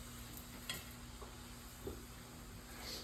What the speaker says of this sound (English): See, the oil is so hot, it's frying up real quick.